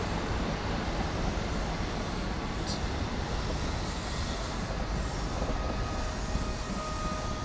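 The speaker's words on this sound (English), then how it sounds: "the next train coming is the 11:43 Great Western Railway service to London Paddington" Great Western Railway train with power car 43003 at the front pulls into Bath Spa station, a dense, steady rumble of wheels and engine with a faint high squeal, loud and continuous throughout with no talking.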